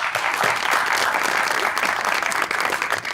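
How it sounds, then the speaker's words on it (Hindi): Studio audience on a talk show breaks into sustained applause, a thick, even roar of many hands clapping at close range without a break. "देखो फिर तालियां।"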